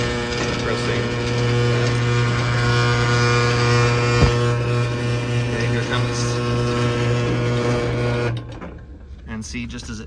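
An electric swing gate opener motor drives a chain as the gate opens, a loud steady mechanical whir with ratcheting gear noise that runs for about eight seconds and then cuts off abruptly, leaving only faint background.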